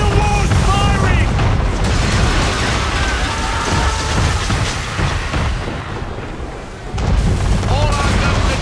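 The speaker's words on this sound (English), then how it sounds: "Under attack! Man of war's firing!" Cannon fire from a man-of-war warship in Assassin's Creed 3, heavy booming blasts rolling over a dense, loud battle din, with a voice shouting in the background.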